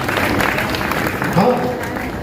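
Brief burst of audience applause at a humorous Hindi poetry gathering in an NTPC campus hall, a steady wash of clapping mixed with crowd murmur.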